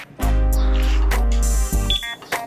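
A loud electronic motorcycle alarm, a two-way system on a Sniper 150, blares in a steady, sustained tone for about a second and a half, then stops and chirps briefly again.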